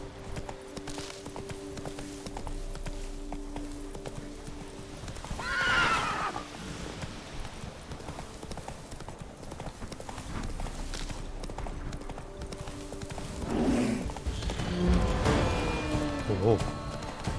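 A horse in The Witcher 3 gallops with rhythmic clip-clop hooves, neighing loudly twice, near and prominent over game ambience, with someone talking at times.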